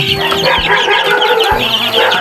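Farmyard chickens and baby chicks clucking and peeping together, a dense, close chorus of overlapping calls with several louder clucks rising above the steady chatter.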